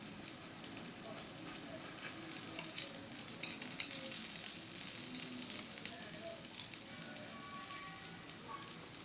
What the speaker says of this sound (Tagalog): Nagdaan-daan lang naman ako maglagay ng talong sa kawali at hindi naman malakas ang apoy.